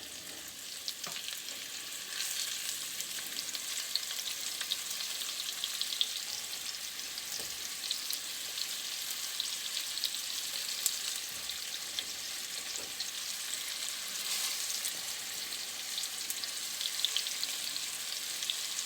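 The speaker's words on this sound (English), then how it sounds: "Fry it up" Kidney and steak meat for a pie fry in a pan with a continuous, close sizzle and crackle, occasional stirring scrapes breaking through the steady hiss, with no talking.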